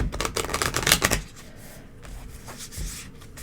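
A brisk flurry of tarot cards riffling and slapping together for about a second, followed by softer handling sounds and a light tap.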